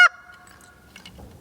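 One short, sharp honk is blown on a hand-held goose call in imitation of geese. The loud, bright blast is followed by a fading tone and quiet air.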